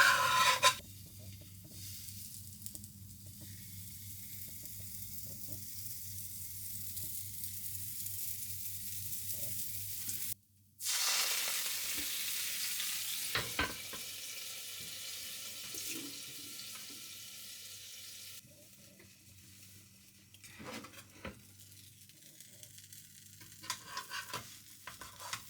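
Food sizzles steadily in a frying pan in a home kitchen in Japan, with stirring scrapes throughout and a brief break near the middle before the loud frying resumes. No one speaks.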